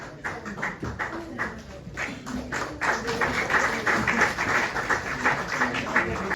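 Audience clapping at a student union candidate declaration program in Itanagar, a dense patter of hands that starts thin and swells fuller and steadier after a couple of seconds, with no voices over it.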